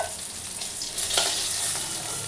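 Fish sizzling and crackling as it fries in hot oil in a pan for a fish jhal curry, a close, steady hiss with small pops throughout.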